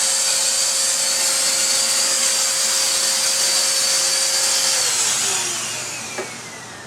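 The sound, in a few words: vacuum cleaner cleaning ventilator filters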